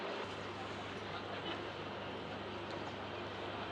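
A train rumbles at Pakshi railway station in Bangladesh, a faint, steady low roar that carries on without a break.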